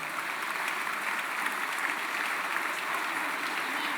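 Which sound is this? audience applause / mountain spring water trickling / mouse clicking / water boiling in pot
audience applause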